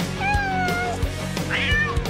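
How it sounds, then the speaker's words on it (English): A cartoon cat in a Digital Circus game meows several times in short, high, bright calls over a steady game music bed, loud and close. "Here, Kitty, it's time to take your medicine."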